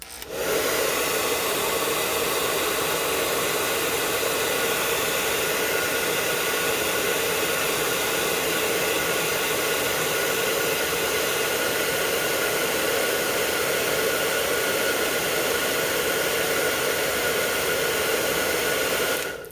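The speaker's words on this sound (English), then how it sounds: "I'm going to get my obnoxious hairdryer that you guys have seen" A hair dryer blows steadily on wet paint for the whole stretch, a loud, even roaring whoosh with a constant motor whine and no voices.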